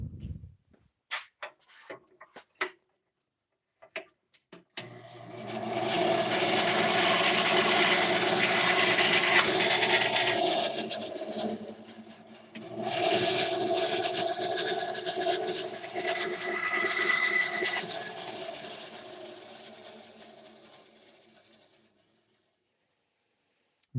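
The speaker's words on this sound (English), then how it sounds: "I'm going to take this over to the bandsaw" A bandsaw trims a piece of wood in a workshop with a steady, fairly loud cutting rasp that runs for several seconds, pauses briefly, then resumes and tapers off, preceded by scattered small knocks and handling clicks.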